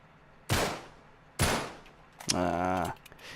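Gunfire in Uncharted 3: two sharp, loud single shots about a second apart, then a buzzy, rattling burst with a ringing tone, all close and alone without talk.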